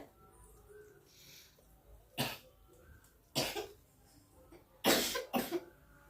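A child coughs in four short bursts, two of them close together, against a quiet room background.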